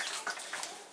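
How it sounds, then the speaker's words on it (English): Apple juice poured over a rack of ribs, a soft continuous splashing trickle with a few small spatters, close and fairly quiet, with no talking. "you can just pour it right over top of it"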